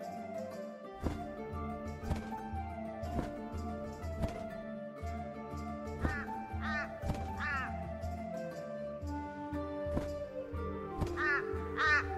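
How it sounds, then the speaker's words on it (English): Crow caws come through repeatedly amid a busy layered soundscape of music or ambience, with strong sharp hits recurring about once a second and the calls standing out intermittently at moderate loudness. "One such crow made its way to the seas of the west."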